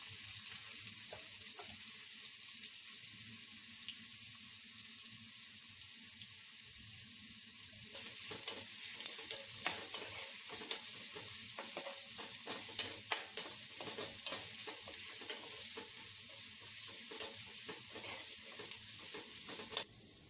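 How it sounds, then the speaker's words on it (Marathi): Chopped onion sautés in hot oil in a kadai with a constant bright sizzle and frequent scraping and stirring of a spatula against the pan, growing busier partway through. "तेल गरम झाल्यानंतर त्यात कट केलेला कांदा टाकून परतवून घेतला आहे"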